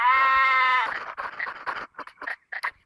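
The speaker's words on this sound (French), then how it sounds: "Ok, là il y a deux moutons." Sheep bleating in the video game WildCraft, one clear sustained bleat up front followed by several shorter broken bleats and rustles, moderately loud with no talk over it.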